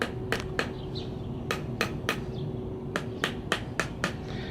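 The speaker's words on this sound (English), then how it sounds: "knock its both corner or hammer them." Metal strikes on the corners of an axle locking bracket in a workshop, roughly a dozen sharp, separate taps in loose groups of two or three over a steady background hum.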